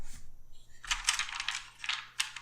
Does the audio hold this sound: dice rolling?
yes